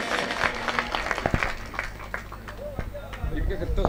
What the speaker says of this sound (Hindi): एक बार जोरदार ताली बजाएं इस खुशी में